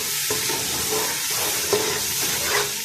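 A spoon stirs cooked black chickpeas with green chillies and lemon juice in a hot pan. Close, continuous scraping and shuffling runs over a soft sizzle, with no voices.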